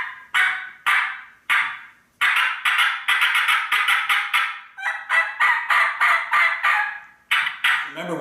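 A two-reed batwing turkey call imitating a young hen, with a series of loud, raspy, high-pitched yelps, first spaced apart and then in quick rhythmic runs, close and clear with no talking.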